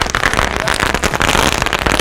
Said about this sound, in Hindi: ये लड़ी जैसा लग रहा है, अब क्या फटेगा क्या नहीं ये तो नहीं पता भाई।